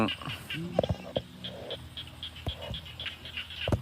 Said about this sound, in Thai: ยิน เสียงกบเสียงเขียดป่